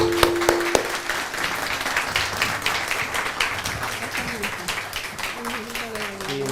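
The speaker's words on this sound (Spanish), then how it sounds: "nos despedimos con un gran aplauso" An audience gives a big round of applause at the close of a conversation event with the Chilean justice minister, steady dense clapping throughout with voices talking over it.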